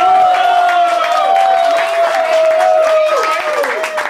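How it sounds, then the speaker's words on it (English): Audience applause for contestants at a Kutchvalley Master Chef semi-final cooking competition, continuous crowd clapping mixed with cheering and raised voices throughout. "big applause of round for all contestants"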